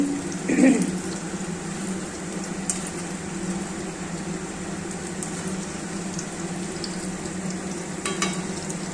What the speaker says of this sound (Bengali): দেখো তালের বড়া ভাজছি